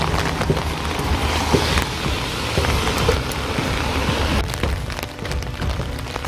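Gentle rain falls steadily outdoors at a dinosaur footprint fossil site in Cheongsong, a continuous soft hiss of drops on surfaces with faint intermittent patters and a low background rumble, no talking.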